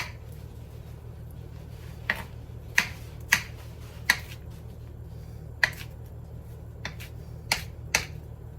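Knife chopping a watermelon on a cutting board during gyro prep, with sharp, irregularly spaced chops standing out clearly over a low steady hum, no talking.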